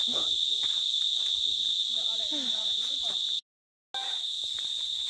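Crickets chirp in a steady high-pitched drone while people talk quietly over it on an early morning hike, and the sound cuts out briefly near the end.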